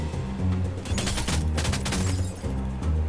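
Heavy gunfire in a video game shootout: dense, continuous volleys of rapid shots crackling without pause, loud and close throughout, over a low steady game-music drone, with no voice on top.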